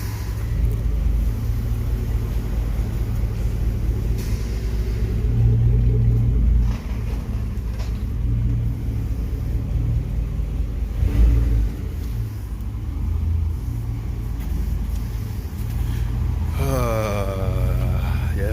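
A Chevy Suburban's 5.3 V8 with its muffler deleted rumbles and rises in a few revs, the deep exhaust swelling and settling, with brief talk near the end.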